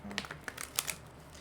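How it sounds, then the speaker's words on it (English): Tarot cards being shuffled, a quick run of faint, close crisp taps and flicks lasting about a second. "And one more shuffle."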